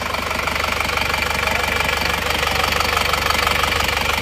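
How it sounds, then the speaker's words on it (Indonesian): An Isuzu Panther diesel engine, previously overhauled, idles close by with a steady, rhythmic knocking tapping over its low running drone, loud and without speech. "Kondisi mesin Panther plat N dari Karangploso ini sementara sudah hidup."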